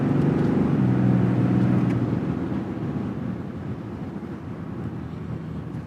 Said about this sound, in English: I'm gonna give it some full throttle acceleration here just so you guys can hear how quiet it is in the cab.